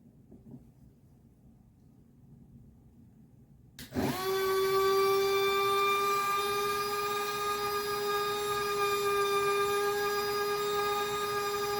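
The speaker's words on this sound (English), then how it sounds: "we are drilling in a black jasper stone to make a bead" After a quiet start, a cordless DEPSTECH 8V mini rotary tool at high speed bursts on, drilling a black jasper stone bead in water, holding a steady loud whine with strong harmonic overtones to the end.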